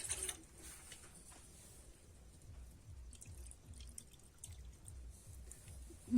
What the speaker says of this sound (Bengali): আমি এক বাটি জল দিয়ে দিচ্ছি